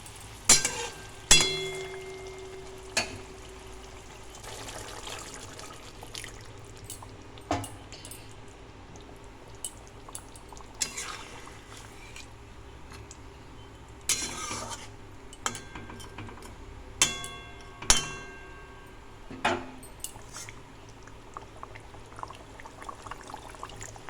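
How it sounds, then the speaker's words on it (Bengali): Fried fish pieces go one by one into a pan of cooked masala for a yogurt katla curry, with a low sizzle underneath and scattered clinks and knocks of a utensil against the pan. "এবার এর মধ্যেই আমি ভেজে রাখা মাছগুলোকে একে একে দিয়ে দিচ্ছি"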